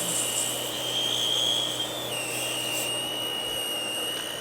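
Shaping a custom rollerball pen section on a lathe gives a steady, close rubbing and rasping whine that holds throughout and shifts pitch slightly partway through, with no talking.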